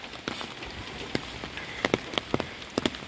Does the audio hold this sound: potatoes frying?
no